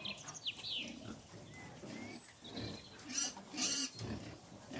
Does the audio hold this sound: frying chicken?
no